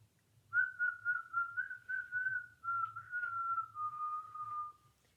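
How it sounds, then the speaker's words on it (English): A person whistling a steady, sustained melody in clear tones, close and alone, with short pitch glides and brief breaks between phrases. "He whistled all the way, and the birds whistled back."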